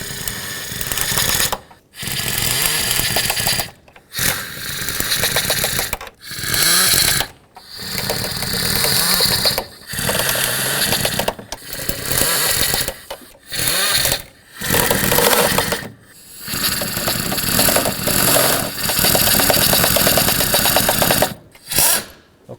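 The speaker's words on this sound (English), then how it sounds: "bottom out all the bolts starting from the center, working my way out" A tool runs down bolts on the knock sensor of a 1997-2003 Ford F-150 with loud, continuous whirring and rattling bursts. About a dozen runs are broken by short pauses between them.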